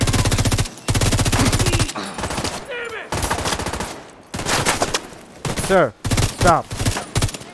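Gunfire in a firefight in The Division 2, rapid bursts of shots loud up close, broken by gaps, with shouted voices and spoken lines over the fighting.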